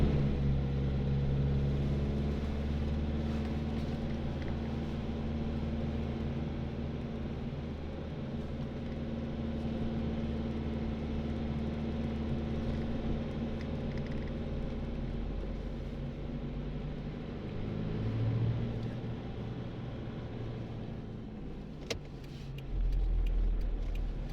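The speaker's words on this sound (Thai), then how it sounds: "นี่เปลี่ยนเป็นเกียร์สองแล้วกันครับ เพราะช่วง ไต่ตรงนี้มันต้องชะลอ" Car climbing a slow uphill park road in second gear, a steady low engine drone heard from inside the cabin throughout, with a slight rise in effort near the end and no talk.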